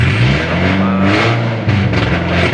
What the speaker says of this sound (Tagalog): kung naririnig nyo ay tunog pururot, no? Ang pangit, pakinggan